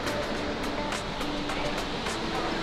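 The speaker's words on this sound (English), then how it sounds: "We've got our own waterfall." The waterfall beside Hotel Giessbach on Lake Brienz gives a steady, dense rush of falling water that fills the whole stretch without a break.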